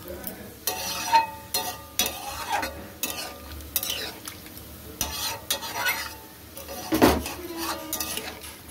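A spoon stirring a paneer and green peas curry in a pan, scraping and clinking against the metal with a gentle sizzle underneath, repeated close-up strokes in an irregular rhythm.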